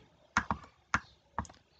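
Keys tap on a computer keyboard during online form entry, four quick close clicks in an uneven rhythm, some in doubled pairs, with no talking.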